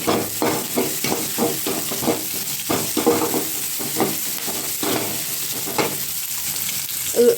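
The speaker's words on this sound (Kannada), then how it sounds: "ಹಸಿಮೆಣಸಿನ್ಕಾಯಿ, ಈರುಳ್ಳಿ, ಕರಿಬೇವು ಹಾಕೊಂಡು ಫ್ರೈ ಮಾಡ್ಕೊತಾ ಇದ್ದೀನಿ." Green chillies, onion and curry leaves fry with mustard seeds in hot oil, a constant crackling sizzle broken by rhythmic scrapes of a spatula stirring through the pan, close up with no voices.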